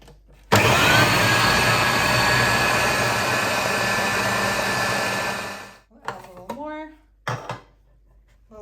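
A food processor purees pumpkin with filtered water for homemade dog food, roaring loud and steady for about five seconds before cutting off, then brief clatter and a short voice.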